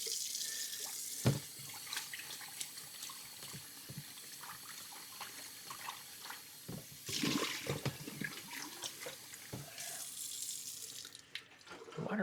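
Running water pours and splashes into a tub, with occasional clunks and knocks, fairly quiet throughout.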